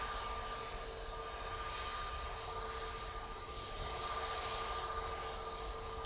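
Steady broadband jet engine roar of a Finnair airliner on landing, continuous and fairly distant, with a faint high whine running throughout and no voices.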